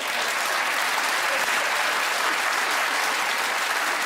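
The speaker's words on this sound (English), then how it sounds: "Can I just ask why you've applauded that?" Studio audience at a comedy panel show gives sustained, dense applause throughout, loud and even from start to finish.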